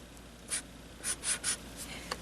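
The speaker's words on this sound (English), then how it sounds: "So right here, I'm going to write," A marker squeaks across paper in several short strokes, four distinct scratchy bursts close by, with quiet pauses between them and no talking.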